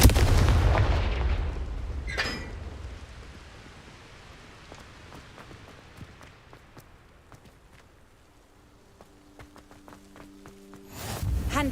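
A Confringo blasting spell explodes in a Harry Potter video game, a heavy booming blast at the start that rumbles and fades, followed by quieter scattered game effects and another loud burst at the end.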